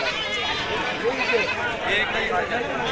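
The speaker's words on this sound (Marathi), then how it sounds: "बघा मित्रांनो गावरान बोकड मोठमोठे बोकड अशा प्रकारे बोकड येत असतात" Male goats bleat at a busy village goat market in Maharashtra, occasional nasal bleats rising amid a dense crowd murmur, with people talking nearby throughout.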